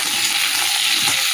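Onion chunks frying in hot oil with cinnamon and cloves, a steady close sizzle and crackle running throughout with light stirring and no voices.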